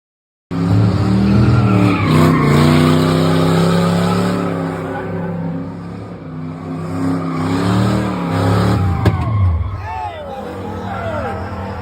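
A race car in New York skids hard to a stop, loud tire squeal and engine roar sweeping through the whole stretch, with excited voices talking over it near the end.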